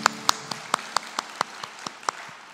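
A congregation at a Sunday morning university church service giving a short round of applause, heard as a few sharp, evenly spaced claps close by.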